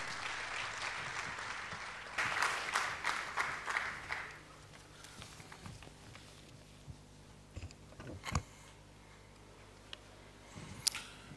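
Applause breaks out in a hall at a real estate convention in Mumbai, swelling briefly into a burst of claps and then fading to scattered handling noises and occasional sharp clicks.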